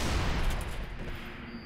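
Brute Shot weapon fire in Halo 3: ODST, a loud burst of heavy gunfire and explosive booms that fades over under two seconds, with no voices.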